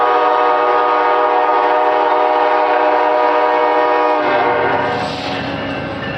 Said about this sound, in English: Via train number 40 from Toronto, Guildford, Oshawa, Coburg, Belleville, and Kingston is now arriving